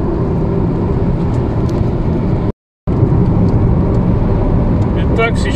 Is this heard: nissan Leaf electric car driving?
yes